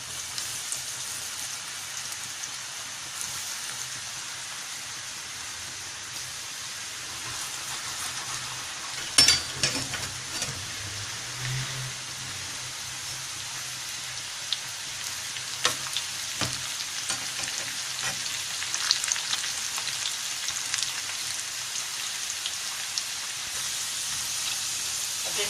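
Potato pieces fry in hot oil in a pan for chilli potatoes, a steady crackling sizzle that runs continuously for about twenty-five seconds, broken by occasional sharper clinks and stirring knocks.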